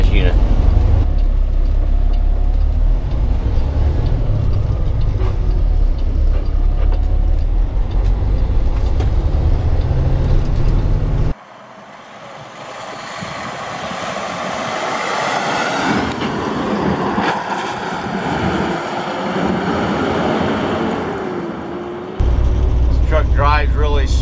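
A 2012 Kenworth T800 semi truck cruises at 55 mph around 1200 RPM, giving a low, steady engine drone and road rumble. The noise dips when the cab grows quieter while someone talks, then the drone returns.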